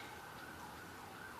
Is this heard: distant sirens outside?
yes